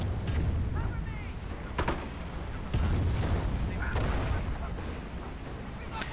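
Mortar artillery shells firing and landing in a strategy battle video game, several booming thuds scattered through a dense bed of game noise, with a voice talking over them.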